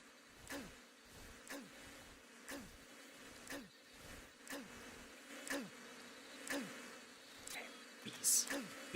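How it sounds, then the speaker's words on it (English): Buzzing bees in the Metal Gear Solid video game, repeated short buzzy swells roughly once per second, fairly faint and close, with a brief bright burst near the end. "Bees. Bees, fuck off."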